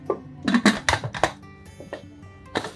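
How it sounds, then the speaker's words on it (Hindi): A pressure cooker lid is fitted and locked shut while a whole moong dal curry is cooked, giving a quick series of close metallic clanks and scrapes, then a pause and one final clink. "अब कुकर के ढक्कन को बंद कर देंगे"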